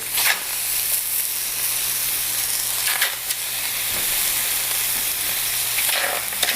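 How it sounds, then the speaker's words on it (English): Steady loud sizzling of carne asada frying in a hot pan, a continuous crackling hiss with a few brief louder bursts, no voices. "That's a nice sizzling."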